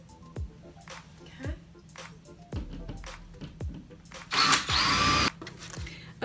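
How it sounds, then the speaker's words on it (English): A power drill driving into a nursery wall whirs loudly in one burst of about a second, with knocks and clicks around it. "we're gonna just try and use the drill and drill it in"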